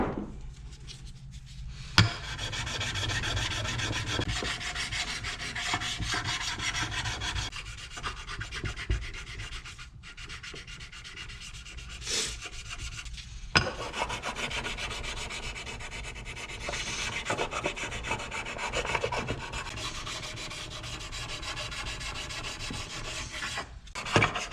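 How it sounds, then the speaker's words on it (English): Sandpaper rubs steadily over the gasket surface of a Honda TRX 450ER engine in continuous close scratchy strokes, with brief pauses and knocks, and no talking. "I'm going to do that now with some sandpaper."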